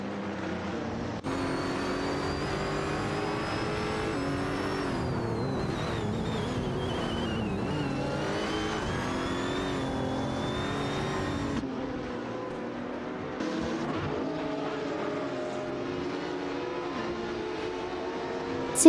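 Race cars in an AI-driven video game race with a constant layered engine drone and shifting whining pitches as cars overtake, continuous and fairly even in loudness with no voices.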